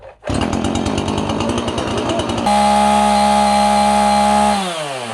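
A Husqvarna 445E chainsaw fires up outdoors with a choppy, sputtering run, then surges to a loud, steady high-revving whine before the engine speed drops back near the end.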